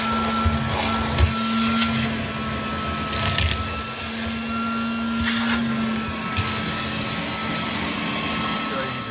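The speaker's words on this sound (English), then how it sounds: "get all the debris out of that hole with that shop vac" A shop vac sucking debris out of the drain hole during a toilet flange replacement, a steady whooshing roar with intermittent rattling bursts as material is drawn up the hose.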